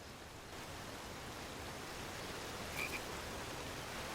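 A frog croaks once or twice in the King's Quest video game, short and faint over a steady hiss of water-like forest ambience.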